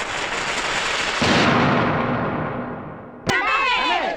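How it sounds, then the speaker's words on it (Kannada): Firecrackers bursting at a college in a film scene, as a dense, loud, continuous roar of crackling blasts, then a sharp bang near the end followed by ringing, whistling tones. "ಪಟಾಕ್ಸಿ ಹೊಡಿರಣ್ಣ."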